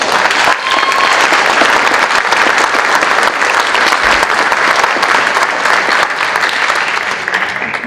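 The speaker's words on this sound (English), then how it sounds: "Give them all a round of applause" Loud, dense applause from a school crowd at an eighth-grade academic honors ceremony, sustained clapping by many hands throughout that eases off slightly toward the end.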